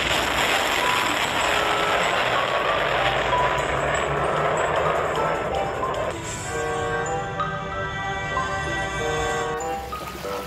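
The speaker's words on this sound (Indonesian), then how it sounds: "Ini adalah truk peluncur misil teman-teman." A toy missile launcher truck gives off a continuous electronic beeping and tinkling toy melody, loud and close, with a shift in tone partway through.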